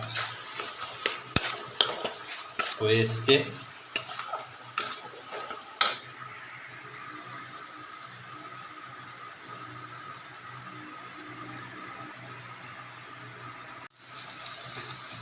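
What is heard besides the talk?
taro stolons frying and being stirred in a wok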